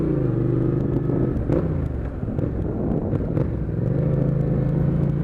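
Yamaha MT-07 motorcycle with an IXRACE exhaust cruising on a road, a steady close engine drone with slight shifts in pitch as the throttle changes, under heavy wind noise and with no voices.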